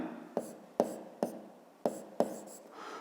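Pen strokes on paper noting down a ruler measurement of a line segment in a fifth-grade geometry exercise: five sharp taps with short scratches, close and quiet, no voices.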